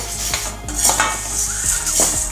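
Urad dal and curry leaves dry-roast in a pan for idli/dosa podi, with a spoon scraping and clinking against the metal in quick strokes over a low steady hiss.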